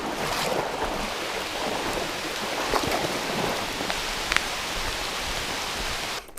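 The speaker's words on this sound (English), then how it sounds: "Now it's raining." Steady broadband hiss of rain falling, dense and continuous throughout with a few brief louder spatters, no voices.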